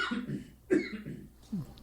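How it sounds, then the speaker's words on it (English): A person coughing near the microphone during a live talk show recording, a few short, dry, throaty bursts in quick succession. "Oh, you gonna cough?"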